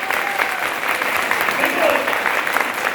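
An audience applauds with dense, steady clapping that stays loud throughout, while a speaker's voice carries faintly over it.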